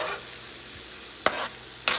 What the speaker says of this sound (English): look how this is just sauteing up really pretty. Them onions, the butter, and plus I had that olive oil